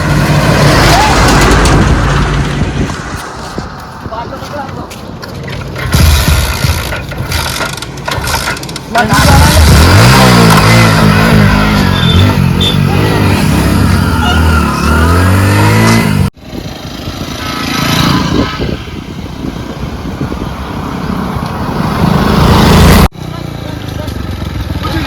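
A motorcycle engine idles and revs in rising and falling sweeps, running steadily under frequent loud talking and shouting, with a brief cut partway through.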